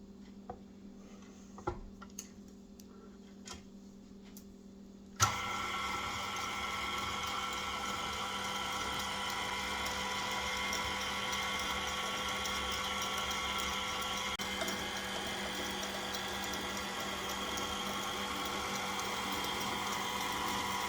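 A KitchenAid stand mixer mixes vanilla cupcake batter. A few quiet kitchen clicks come first, then the motor switches on with a sudden start and runs as a steady, even whirring hum to the end.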